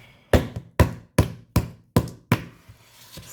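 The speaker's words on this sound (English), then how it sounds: "So knock it off the spoon there." Cookie dough is rapped off a spoon against a bowl in six sharp, evenly spaced knocks, close and loud, each with a quick decay, followed by a few faint taps.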